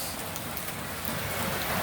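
Heavy rain falls outdoors under a dark sky, a dense continuous wash of drops hitting surfaces, loud and steady throughout with no talking.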